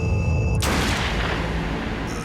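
One booming shot from a .22 caliber revolver in a dramatized crime reenactment, loud and close, with a long decaying rumble afterward.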